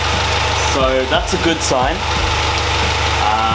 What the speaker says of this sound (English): But I'm still just gonna let the car idle for a little longer.